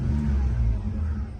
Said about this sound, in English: that is the smoothest rev I have heard since owning this car